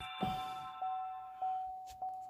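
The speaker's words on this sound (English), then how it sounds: "Sorry about that buzzing sound, but the door is open." A Cadillac ATS door-open warning chime rings with the door left open, evenly spaced soft dings repeating about every 0.6 seconds inside the car, fairly quiet against a low background.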